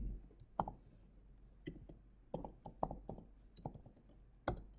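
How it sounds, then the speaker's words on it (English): Computer keyboard typing, with sparse, irregular key clicks and a few quicker bursts of taps, quiet and close, alone without speech. "you see me typing Control D"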